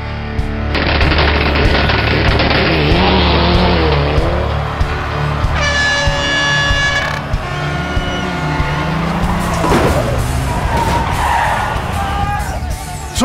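Rally cars race flat out along a special stage, engines roaring loudly with tyre skids and sharp popping bursts from anti-lag, one car's revs climbing and falling as it passes, with faint voices mixed in.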